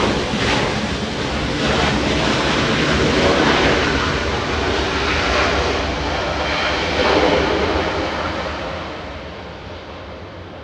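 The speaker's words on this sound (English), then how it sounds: "Aero Mexico 642 flying in from Mexico City, a 737 MAX 8." An Aero Mexico Boeing 737 MAX 8 arriving at Los Angeles International Airport makes a broad, steady engine roar, fairly loud and sustained before slowly fading toward the end.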